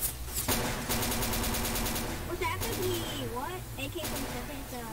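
Rapid bursts of Tommy gun fire in Garry's Mod, a loud close rattle of repeated shots with chatter and other game sounds layered over it.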